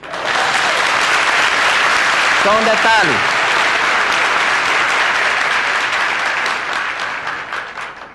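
A studio audience at a Seicho-No-Ie religious TV program breaks into loud, sustained applause from many hands, a voice briefly speaking over it before the clapping tapers off at the end.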